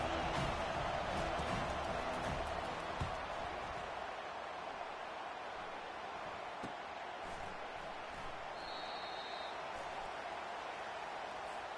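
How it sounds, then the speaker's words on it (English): Steady roar of a large stadium crowd at a college football game with the Aggies, a dense wash of noise that stays loud and unbroken throughout, with no clear voices standing out. "This crowd, full throat, splitting the eardrums and letting them know it's going to be a long day"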